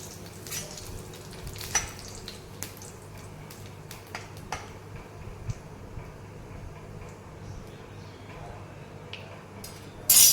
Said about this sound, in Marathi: तेल गरम झाले, जिरे घालून देऊया. दोन तमालपत्री घालून देऊया